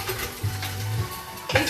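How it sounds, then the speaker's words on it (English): Chicken pieces for a herby stew sizzling in a pan while a utensil stirs and knocks against it, a close steady hiss with a scrape and clatter near the end. "these are sizzling a bit. I'll just give them a bit of a stir, a bit of a bash"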